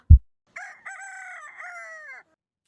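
A rooster crows once, close and clear, in a long drawn-out call lasting nearly two seconds, just after a brief low thump.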